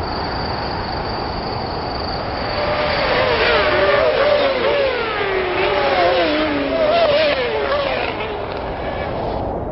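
A speeding superbike whoosh used as a transition effect: a loud engine tone sweeps up and down in pitch as it builds and passes, over a constant dense background bed.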